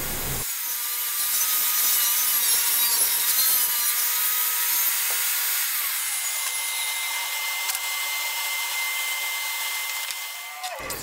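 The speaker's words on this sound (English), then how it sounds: "I took the piece over to my miter saw and I began to cut the 4 separate pieces" A miter saw cuts a piece of wood for a DIY box, producing a loud, steady high whine with a rough grinding edge that runs for about ten seconds before winding down, with no talk.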